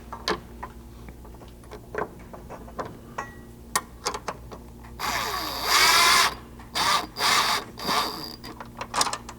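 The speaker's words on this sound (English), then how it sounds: "tighten them up with a 3/16 hex and a 1/2 inch wrench" Bolts on a Bronco pinch weld cover are tightened with a 3/16 hex key and a 1/2 inch wrench, giving sparse metallic ticks and clicks followed by a burst of quick ratcheting bursts near the end.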